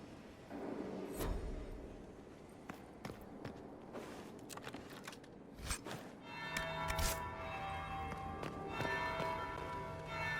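A bell rings in the video game Dragon Age Inquisition, faint and tolling among scattered footsteps and clatter, with sustained tones building in the second half over a busy ambient background.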